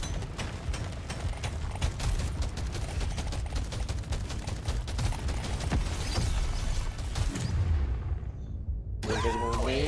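Dense, rapid gunfire rattles almost nonstop in the video game Deep Rock Galactic Survivor, loud bursts piling over one another before a brief drop near the end and a final flurry of shots.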